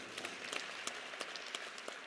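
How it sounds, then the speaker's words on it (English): Crowd applause for a National Association president at an event introducing Alabama A&M's new head football coach, a steady wash of many hands clapping, somewhat distant and soft, no voices heard. "Give him a round of applause."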